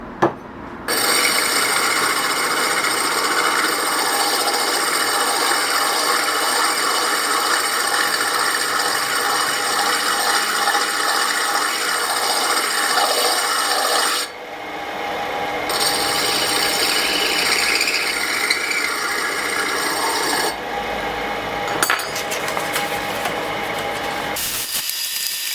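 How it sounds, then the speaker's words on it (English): Sandpaper rubs against a wooden workpiece spinning on a lathe, polishing the inside and outside, giving a steady close rasping hiss for about 14 seconds, then a short pause before the sanding resumes with brief breaks. "get a cleaner polish on the inside and outside with a bit of sandpaper"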